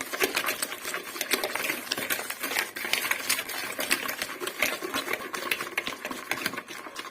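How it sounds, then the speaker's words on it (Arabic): Eggs being beaten with sugar for an orange cake, a continuous busy whirring clatter that stays fairly loud and even throughout, with no talking. "غادي نضرب هاد البيض هذا مع السنيده، نضربو مزيان."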